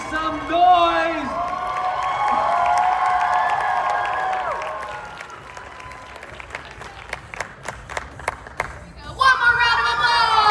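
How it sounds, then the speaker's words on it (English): A convention crowd at an anime event roars with high cheers and whoops over loud applause, then individual sharp claps ring out before another burst of shouting voices near the end. "Raleigh, make some noise!"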